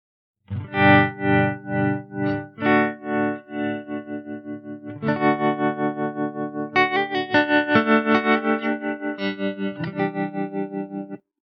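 Electric guitar through a Meris LVX delay pedal with tremolo, pulsing chords that swell and fade in even quarter-note throbs, delay-smeared and distorted, close and loud with no talking.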